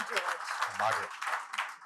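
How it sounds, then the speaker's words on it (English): An audience at a plaque unveiling ceremony claps steadily for two gentlemen speakers, a dense spread of hand claps heard throughout while a voice calls out names over it. "One round of applause for the gentlemen."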